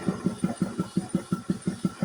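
A farm buggy engine with a poorly working carburetor cranks in a steady, rapid rhythm of about a dozen evenly spaced chugs, loud and close, without catching.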